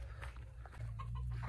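Chickens cluck in a short burst of overlapping calls over a strong low rumble, with no talk.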